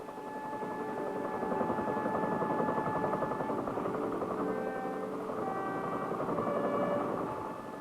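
A Chinook helicopter flies overhead towing targets past gun positions, its rotor and engine producing a steady, loud drone throughout, swelling slightly at mid-passage and easing near the end.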